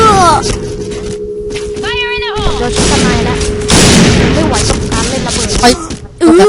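Sniper rifle shots and explosions from the shooter game Point Blank, a dense loud barrage of gunfire and booms with game effects layered throughout, a voice talking over part of it.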